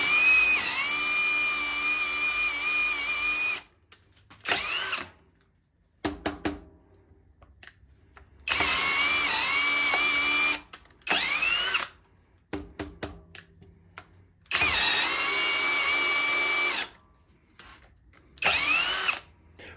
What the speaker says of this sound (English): Let's see what the drill can do just for some fun.